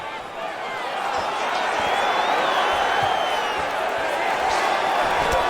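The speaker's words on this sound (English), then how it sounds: "The crowd is losing their mind." A virtual arena crowd in UFC 5 at a Shevchenko vs. Andrade fight cheers in a dense, sustained roar that swells slightly and stays loud, with faint thuds underneath.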